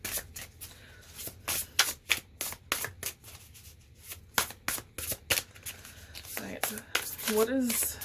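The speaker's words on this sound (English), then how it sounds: "This is a big deck, so sometimes it doesn't shuffle the best." A large deck of cards being riffle-shuffled repeatedly at close range, a rapid series of crisp flutters, with a soft voice speaking quietly near the end.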